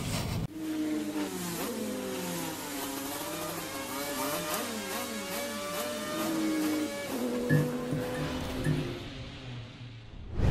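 A prototype race car engine at a circuit in northern France revs repeatedly, loud and near, its pitch rising and falling in sharp throttle blips and sustained high-rpm runs before settling.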